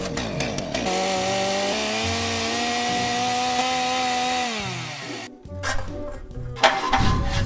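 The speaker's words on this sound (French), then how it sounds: "Ensuite j'ai plus qu'à découper ça à la disqueuse et ça me fait un trou pas trop mal." An angle grinder cuts holes in a steel bull bar for a Lada Niva, giving a loud, sustained whine that drops in pitch as the disc bites, then breaks into short bursts of grinding after a brief pause.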